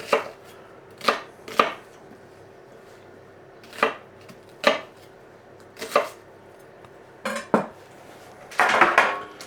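Irregular knife chops strike a cutting board while roughly chopping vegetables, about a dozen sharp thuds spaced unevenly, ending in a quick flurry of cuts; close and fairly loud, no voices.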